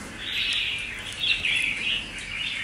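A caged songbird, a red-whiskered bulbul kept as a singing bird, delivers a lively run of clear, warbling chirps and whistles close to the microphone, continuous over a quiet background with no speech.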